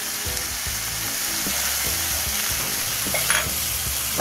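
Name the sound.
stirring tomatoes and seasoning into cooking chickpeas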